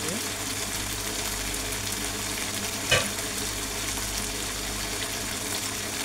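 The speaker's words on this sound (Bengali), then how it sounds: "এখন আমি কিছু সময় মাংসটা কষিয়ে দিচ্ছি" Chicken pieces frying with yogurt in a pan for biryani, a steady close sizzle with a single utensil knock midway, continuous and even throughout.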